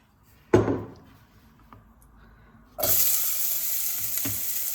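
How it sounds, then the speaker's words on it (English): Onion hits hot olive oil with a sudden sizzle, then after a short lull a steady, bright frying hiss continues close by. "Start frying that onion."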